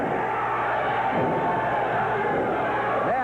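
A 1985 Texas All Star wrestling arena crowd roars steadily throughout, a dense wash of cheering and shouting that never lets up, with no clear commentary voice rising above it.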